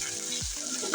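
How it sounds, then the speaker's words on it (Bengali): Ginger-garlic paste fries in oil in a pan, a close, steady sizzle with a brief stirring scrape partway through and no voices. "ভালো করে তেলের সাথে ভেজে নেবো যেন আদা রসুন কাঁচা গন্ধটা চলে যায়।"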